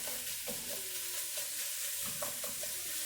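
Ground food being broken up and mixed in a hot pan with a spatula, giving a steady sizzle with repeated scraping strokes at close range, with no voices.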